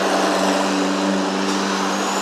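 Truck passes close by with a loud, steady broadband roar and engine hum filling the whole two seconds, no talk over it.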